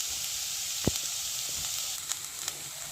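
Ginger and garlic tossed into a pan of softening onions for an eggplant masala, sizzling steadily and close, with a sharp clack of a utensil and a few lighter taps over the hiss.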